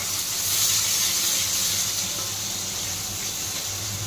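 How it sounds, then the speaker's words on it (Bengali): Onions frying in hot oil in a home kitchen, a steady bright sizzle and hiss held at an even level throughout, with a faint low hum beneath. "তেল দিয়ে দিল তেলে এখন পেঁয়াজ দিছে পেঁয়াজটা এখন একটু হালকা ভাজা করবো"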